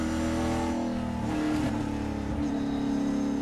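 Onboard a Trans Am race car at Portland International Raceway, the engine roars steadily, then blips and drops in pitch through a downshift into third gear around the middle, loud and close with no talk.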